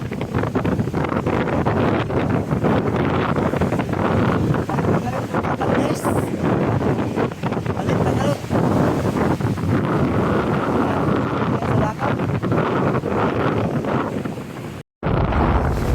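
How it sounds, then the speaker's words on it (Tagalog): Strong sea waves and gusting wind during Typhoon Krising at a beach with damaged cottages roar continuously and loudly, with heavy wind buffeting on the microphone and a brief spoken remark over the noise. "Check mo yung grabe kalakas ang alon."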